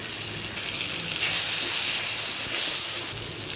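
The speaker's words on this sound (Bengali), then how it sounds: "টমেটো পেঁয়াজটা ভাজা হয়ে গেছে, এবার একটু আদা বাটা একটু কাঁচা লঙ্কা দিয়ে দিচ্ছি।" Tomato, onion, ginger paste and green chili fry in hot oil in a pan for a fish dish, a steady, loud sizzling hiss that swells briefly midway, with no voices.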